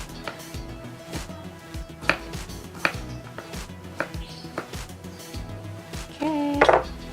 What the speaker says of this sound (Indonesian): Bawang putih, bawang merahnya kita potong-potong dulu biar nggak capek nguleknya ya